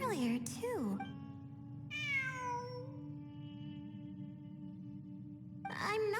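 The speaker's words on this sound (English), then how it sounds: "It really is a cat." A cat in the video game Genshin Impact meows in drawn-out, rising and falling cries, several calls separated by a long tonal hold, clear and close, with game ambience beneath.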